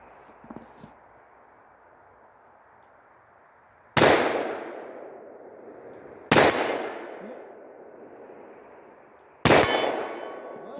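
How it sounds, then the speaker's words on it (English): Three revolver shots strike a steel target 30 yards away, each a sharp, loud metallic clang ringing out and decaying, spaced a few seconds apart after a quiet opening at an outdoor range. "let me shoot the 30-yard target right over there and see if I can get hits on that."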